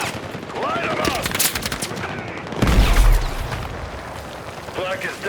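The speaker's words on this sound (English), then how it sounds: "We need suppressive fire!" Bursts of automatic gunfire and explosions rattle through a combat scene in the video game Battlefield 6, with a heavy boom midway and shouted voices over the fighting.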